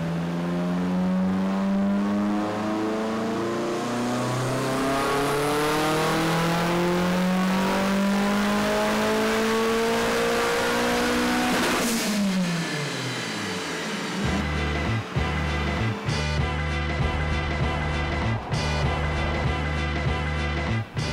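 A tuned drift car engine climbs steadily through the revs in one long loud pull, then drops away sharply and settles into a choppy, popping idle with rapid rev blips, close and without speech.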